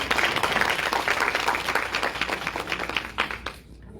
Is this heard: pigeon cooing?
no